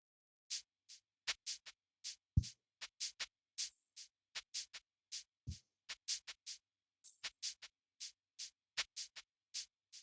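Sampled cabasa from a drum sampler plays a basic reggae pattern: crisp, dry shaker scrapes in a sparse repeating rhythm, fairly quiet, with a couple of low thumps mixed in and no speech.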